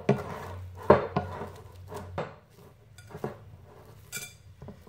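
A spoon clinks and scrapes against a bowl while turkey meatball mixture is stirred, several sharp knocks near the start followed by softer scraping and occasional taps.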